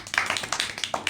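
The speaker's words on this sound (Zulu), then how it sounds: "ngicela simshayele ihlombe" Sparse clapping from a small podcast audience, about a dozen distinct hand claps in an uneven, quick rhythm, close and moderately loud without talk.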